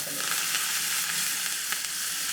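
Curry leaves fry in hot ghee for ven pongal, giving a loud, close, continuous crackling sizzle with a bit of stirring and no talking.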